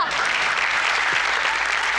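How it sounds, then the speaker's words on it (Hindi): Studio audience applause on a Hindi family comedy show, a dense, loud, even burst of many hands clapping together for about two seconds without a break. "तालियां!"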